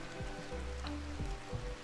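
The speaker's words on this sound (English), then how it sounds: "it is raining outside as well, so it is cooling it down" Rain falls in the Rimworld video game, a soft steady patter under low background hum, with a few faint droplet ticks and no talk.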